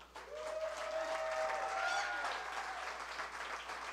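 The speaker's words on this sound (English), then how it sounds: "And that applause, for those of you listening on the radio, is for the head coach of the Fighting Irish, Brian Kelly." A crowd claps steadily for Notre Dame head coach Brian Kelly at a radio show event. The applause is sustained and moderately distant, and a faint thin tone sweeps over it.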